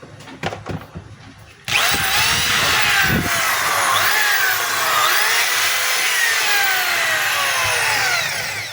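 A DeWalt 3/8-inch drill with a faulty chuck starts after a few faint knocks and runs loud and steady. Its whine shifts slightly in pitch while it spins alone, with no talk.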